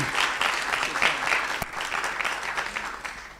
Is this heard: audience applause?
yes